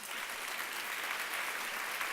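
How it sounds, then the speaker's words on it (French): Applause from an audience at a plenary session honours the journalists, a dense, even patter of many hands clapping, fairly soft and continuous with no speech over it. "Je pense qu'ils méritent une main d'applaudissements"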